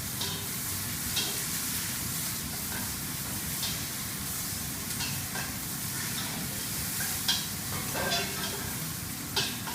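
Vegetables sizzle in a pan on a cookery school stove as soup is started. A dense, continuous hiss with scattered pops stays close and even throughout, with no talking.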